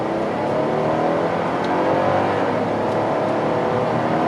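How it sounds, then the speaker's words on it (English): A 2013 Mercedes GL450 SUV accelerates from inside the cabin, its engine giving a steady, muffled drone and road rumble that holds even and moderately loud throughout, with no talking. "I guess we should accelerate"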